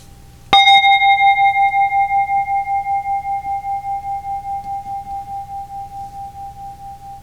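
A handheld gong hanging from a cord is struck once, up close, ringing out as a clear sustained metallic tone with a gentle pulsing shimmer that slowly fades over several seconds.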